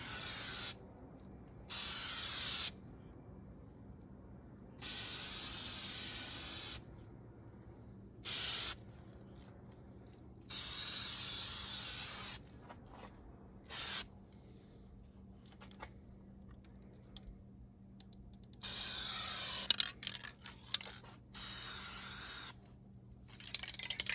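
Primer sprayed from a can onto the air intake of a 1926 Ford Model T: repeated sharp hissing bursts of a few seconds each, separated by quiet pauses, near and fairly loud.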